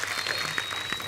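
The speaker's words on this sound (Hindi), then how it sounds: "आइए प्लीज जोरदार तालियां सुखबीर पाजी और बादशाह पाजी के लिए" A studio audience on a comedy talk show claps loudly for two guests, a dense, steady patter of many hands without pauses.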